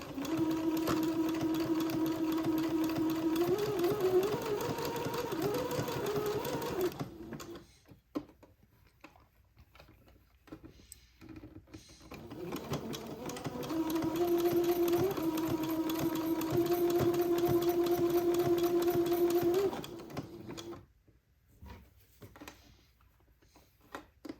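A sewing machine runs zigzag stitches, attaching a band along the neck opening of a gown. It makes two long, steady rattling runs of several seconds each, close and clear, with a quiet pause between them.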